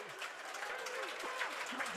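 Crowd applause fills a rugby league ground at a 2023 Rovers home game against Sheffield Eagles, a steady, fairly distant wash of clapping that runs the whole time with voices mixed in.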